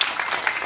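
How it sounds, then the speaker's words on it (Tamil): A short burst of audience clapping at a Tamil stage event, brief and fairly close with a crowd's scattered claps blending together. "அந்த மாதிரி ஒரு வசனம் வச்சதுக்கு ஒரு கைத்தட்டல் கொடுக்கலாமே"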